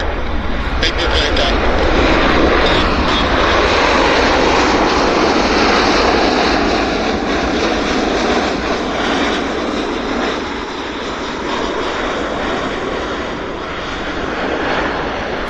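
Aircraft engines at Vancouver Airport roar steadily and loudly for the whole stretch, a broad continuous rumble of an arriving airliner with a faint voice under it.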